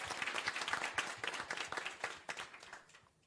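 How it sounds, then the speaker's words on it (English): An audience at a women-in-law event hosted by a society of advocates breaks into steady applause, a dense, fairly close patter of many hands clapping that thins out toward the end. "Let's give Jacques a round of applause."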